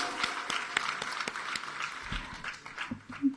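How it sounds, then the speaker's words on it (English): Applause from an audience at an honoring ceremony at Punjabi University, Patiala: scattered claps in a moderate, uneven patter that thins toward the end, with some low background noise. "Kindly have a loud round of applause"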